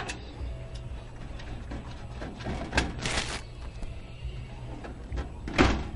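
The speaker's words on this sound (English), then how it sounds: "Door slides right off." The side door of an Aerocool AeroRacer Pro PC case slides off, giving a couple of short scraping clatters over low steady room hum, with a final louder knock near the end.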